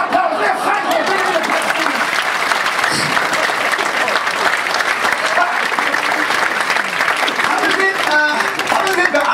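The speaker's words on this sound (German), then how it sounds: "Ein Riesenapplaus, der Frank hier will." A live comedy audience at a juggling stage show applauds steadily and loudly, dense clapping and crowd noise sustained throughout, with some voices mixed in.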